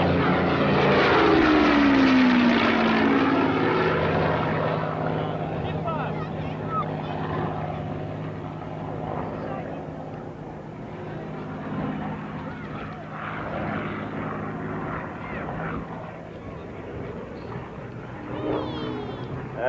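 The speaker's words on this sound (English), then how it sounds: "this is a Mark 2C Hurricane" A Hawker Hurricane Mark 2C propeller fighter passes at an airshow, its engine droning loud early and then fading into the distance while a voice talks over it.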